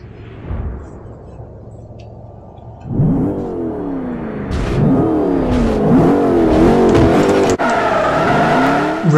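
A Mercedes-Benz SLR McLaren in the racing game Forza Motorsport 4 surges from a quiet idle into loud, repeated rising engine sweeps as it accelerates and shifts gears, with tire noise beneath.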